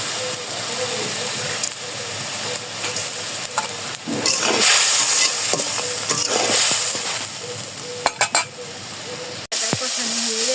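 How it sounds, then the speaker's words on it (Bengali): Spice masala with salt fries in a pan, a loud continuous sizzle with scraping stirs and bursts of steam, while a voice talks over it. "এখানে যে মশলাটা একটু কষিয়ে নিই"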